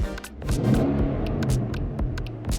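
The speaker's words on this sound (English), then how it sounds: "Let's hop in and take a rev." A 2019 Nissan Titan pickup engine catches after a no-start fault and revs, a loud close low rumble that swells and throbs steadily, with a few clicks and knocks on top.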